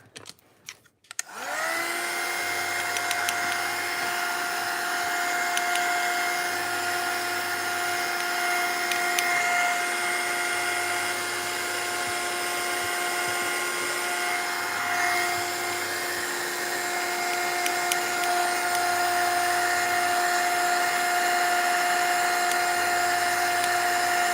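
A heat drying tool blows air onto a CD ornament in a craft project, switching on with a click and then holding a steady high whine and rushing hum for over twenty seconds, alone with no talking.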